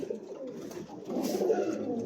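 Caged pigeons coo softly in a low, continuous murmur, the pigeon sounds swelling slightly louder toward the end with no voices over them.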